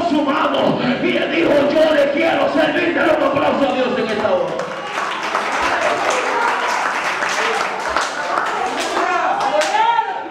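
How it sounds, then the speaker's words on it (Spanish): Church congregation clapping together during an evangelist's sermon, a steady wash of applause that builds and continues throughout, with a voice speaking over it at first. "Dale un aplauso a Dios en esta hora."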